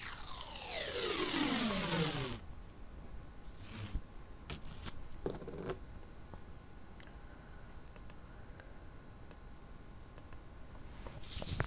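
A Cricut cutting machine works through chipboard, opening with a loud rising whir of the carriage, then settling into scattered clicks, ticks and short blade strokes over a quiet hum.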